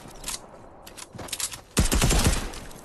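Gunfire in Fortnite, scattered single shots early, then a dense rapid burst of automatic fire near the end, loud and close with no talk.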